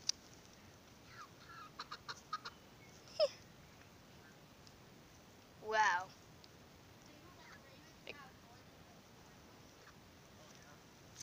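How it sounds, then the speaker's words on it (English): Roosters on a farm-like setting, with one drawn-out crow standing out midway and a few short, scattered calls and clucks around it, fairly distant and faint against a quiet background. "There are roosters."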